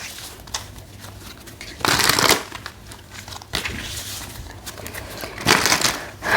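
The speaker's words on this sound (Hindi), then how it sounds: "चलिए आपके लिए गाइडेंस कार्ड निकालते हैं" A deck of guidance cards is shuffled up close, papery riffles and crisp rubbing in several loud bursts with softer handling between them.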